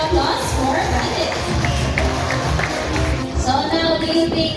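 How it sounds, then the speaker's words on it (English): Audience at an Ocean Park Cebu bird show claps and cheers for a trained bird called Bandit, a steady crowd wash of applause with voices mixed in throughout. "How about a round of applause for Bandit?"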